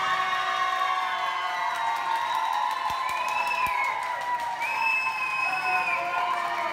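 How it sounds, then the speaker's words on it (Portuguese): A crowd at a ballroom dance show applauds and cheers for a dance couple, with steady loud clapping, whoops and shouts that continue throughout, and a few sharp claps standing out. "Uma salva de palmas pro casal número 2."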